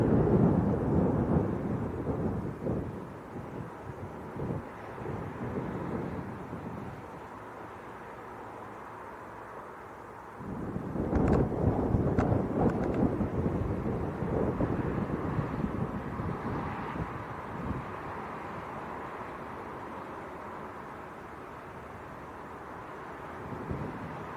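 Strong gusting wind buffets the microphone outdoors at Leeds Bradford Airport, a loud rumbling roar that eases for a few seconds near the middle, then surges back and settles into a steady blustery wash.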